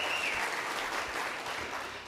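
Audience applause at a 2022 UCP leadership debate in Edmonton, a steady wash of many hands clapping that holds loud for two seconds, with no one speaking over it.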